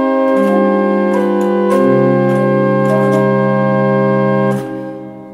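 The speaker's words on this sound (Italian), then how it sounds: "questo è il suono del principale." Principal stop of a church organ in Dardago, sustaining a few steady chords with clean, stable harmonic tones, loud and close, with faint clicks of key action before the sound fades at the end.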